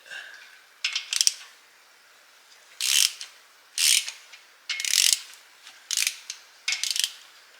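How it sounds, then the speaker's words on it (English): A ratchet wrench tightens the rod bearing bolts on a BMW S85 V10 engine from an E63 M6 in several close, crisp bursts of rapid clicking separated by short pauses, with no one talking. "Final time, we're gonna torque it up."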